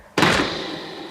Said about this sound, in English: But Fifer Pig dashed into the house and slammed the door.